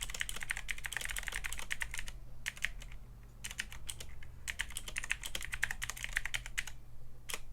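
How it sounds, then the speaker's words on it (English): Rapid clicking keystrokes on an AJAZZ AK33 RGB mechanical keyboard, close and fairly quiet, in dense bursts with a few short pauses. "let's just see what happens when I start typing on it."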